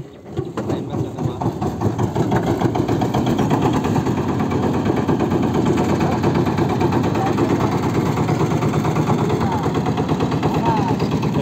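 A large trawler's engine on the Brahmaputra river, a loud, continuous, rapidly pulsing diesel chug that stays close and steady throughout.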